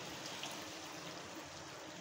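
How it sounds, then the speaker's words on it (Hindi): Chickpea boiling water, about three glasses, poured from a container into a pot of chickpeas for chana pulao, a steady, continuous splashing stream that stays even and fairly close throughout. "अब तकरीबन 3 गिलास पानी जो चनों का बॉईल करके रखा हुआ था, ये सारा का सारा मैं इन चनों के अंदर डाल दूँगी।"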